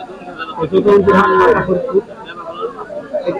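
A cow lets out a single drawn-out moo amid a noisy crowd at Jadunandi cattle market in Faridpur, with voices murmuring in the background.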